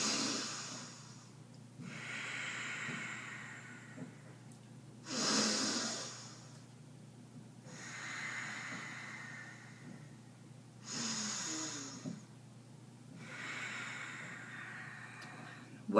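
Slow yoga breathing through alternating nostrils, with airy nasal inhales and exhales in a steady cycle of about six breaths, close and fairly soft, with no talking.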